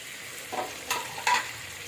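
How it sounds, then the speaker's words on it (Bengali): A shrimp fritter mixture with garlic and spices is stirred in a pan: two or three brief, soft scraping strokes over a faint sizzle, with no voices. "রসুন দিয়ে ভালোভাবে মিক্স করে নিই।"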